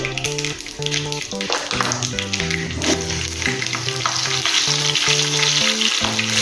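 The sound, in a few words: mustard seeds and green chillies frying in hot oil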